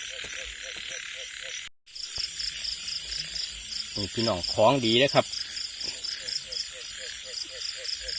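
Frogs croak in a rice field at night after rain, with a steady chorus of insects and crickets behind them and someone speaking briefly nearby.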